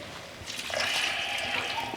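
Water is poured into a pot of sambar being cooked at home, a short trickling splash that grows slightly louder as it goes and ends in a brief clank.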